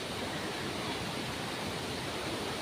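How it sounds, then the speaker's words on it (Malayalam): Stream water at Meenmutty flows in a steady, dense broadband rush with no change from start to finish, close and moderately loud, with no voices. "വെള്ളമൊക്കെ അവിടെ നിന്നാണ് ഒഴുകി വരുന്നത്."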